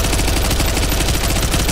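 An MCX Spear replica fires full auto from an AR10 magazine in one dense, continuous, loud burst of rapid shots lasting the whole moment, with no talking.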